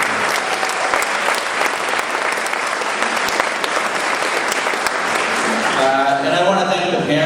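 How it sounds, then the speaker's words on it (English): Loud, dense applause from parents at a school town hall meeting for the principal and teachers, sustained for several seconds before a voice begins speaking as the clapping fades at the end. "So let's give a round of applause again to Principal Pavone and the teachers."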